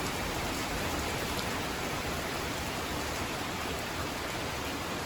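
Heavy rain pours steadily onto a stand of trees outside a house, a dense, unbroken wash of hiss with wind mixed in, loud and constant with no voices over it.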